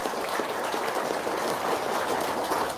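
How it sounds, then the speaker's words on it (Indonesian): An audience at a testimonial gathering applauds with a dense, even wash of clapping that holds steady throughout. "Tepuk tangan dong."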